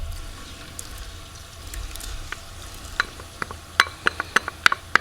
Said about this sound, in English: when you add the garlic, it starts to sizzle a little bit.